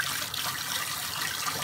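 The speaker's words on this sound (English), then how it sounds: "then put them under hot water for about 20 seconds" Hot tap water runs steadily over wax brushes, a continuous close hiss and splash that holds even throughout with no pauses or talk.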